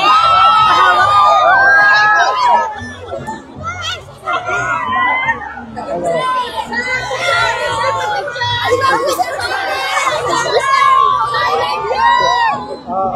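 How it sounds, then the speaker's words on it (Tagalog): A dense crowd of Filipino overseas workers in Hong Kong shouts and cheers for Senator Raffy Tulfo at a Sunday gathering, loud and close, with overlapping excited voices, squeals and chatter rising and falling throughout. "Grabing hiyawan ng mga OFW dito"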